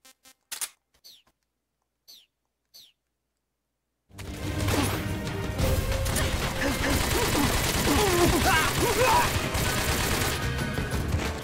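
Grenade explosions in a video game, a few faint short pops at first, then after a few seconds a loud, dense, sustained roar of blasts and gunfire that continues to the end.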